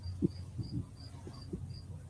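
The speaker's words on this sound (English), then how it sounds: "here, I just noticed the crickets" Crickets chirping outdoors, a faint evenly spaced high chirp repeating about every third of a second over soft low background rumble and wind.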